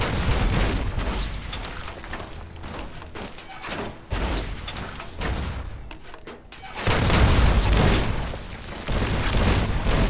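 Missile launcher blasts and heavy booms in a Fallout: New Vegas firefight, loud and repeated over ten seconds with dense overlapping explosions and gunfire, a few brief lulls between bursts.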